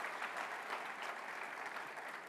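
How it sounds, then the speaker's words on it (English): An audience applauds steadily at a speaking event, a dense wash of clapping hands heard at moderate distance. "Round of applause for the other speakers on this program."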